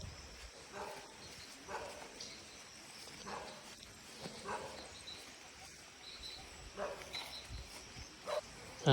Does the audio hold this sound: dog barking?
yes